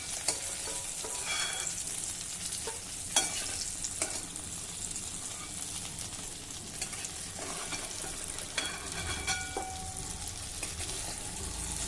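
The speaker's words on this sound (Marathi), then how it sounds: "तेलावर मिठावर वांगी छान परतून झाली, मस्त मऊ झाली आहे." Soft green eggplant pieces fry in oil with salt in a pan, giving a steady, close, continuous sizzle with occasional stirring scrapes and clinks throughout, with no talking.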